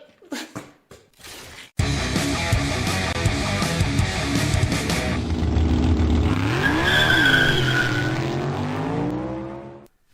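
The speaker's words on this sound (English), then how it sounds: "My race car won't stop crashing." Toy slot cars race around a plastic track with a continuous high-pitched motor whine and rattling, rising and sliding in pitch before cutting out; a few sharp knocks and clatters come first.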